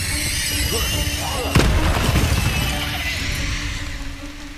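Incendio fire spell cast in Hogwarts Legacy: a sudden bursting whoosh midway that flares and fades over steady game ambience.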